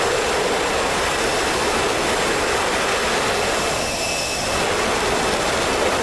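F-16C Viper jet engine in the flight simulator DCS World: a steady, loud broadband roar with a high whine, continuous and unbroken throughout.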